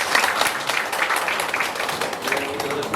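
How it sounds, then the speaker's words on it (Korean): A group at a senior center gathering claps for the kitchen volunteers, a crackling, continuous patter of many hands held at moderate level for a few seconds. "박수 부탁드립니다."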